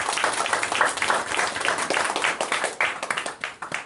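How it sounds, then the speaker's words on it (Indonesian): Dense, steady clapping from a crowd at a mass cremation ceremony in Bali, broadband and continuous with slight dips near the end, no distinct voices standing out. "tepuk tangan ini"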